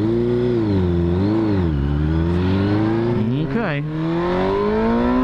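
A Suzuki GSXR 600 motorcycle under rebuild revs loudly up and down at close range, its engine pitch rising and falling in waves before a quick blip, while a voice briefly speaks over it.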